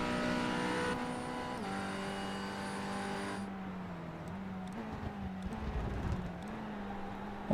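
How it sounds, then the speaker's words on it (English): A sim racing game race car engine whines loudly as it downshifts into turn 6 at Road America, stepping down through the gears in a series of abrupt pitch drops before settling into a lower drone. "Just listen to it when he goes down the gears now into turn 6"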